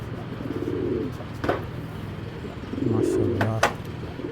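Tournament game pigeons kept for sale cooing nearby in two rolling bursts, with a few sharp bird chirps between them over a low background hum.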